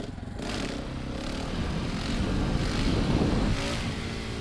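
A motorcycle engine revs steadily under throttle, a loud continuous roar that swells slightly in the middle before settling, close to the rider with wind noise mixed in.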